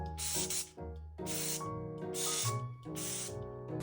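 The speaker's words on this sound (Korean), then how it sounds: "그리고 지금 소개해드리는 미스티파이 오일 스프레이." A Mistyfy oil mist spray bottle sprays in four sharp hissing bursts, each about half a second long, over steady background music.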